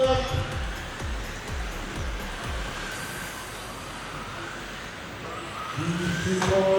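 Tamiya TT radio-controlled cars race past on a track, their small motors making a steady whirring drone with passing surges, and a commentator talks over it.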